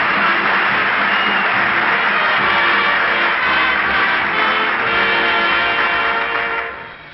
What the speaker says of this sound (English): Applaud loud.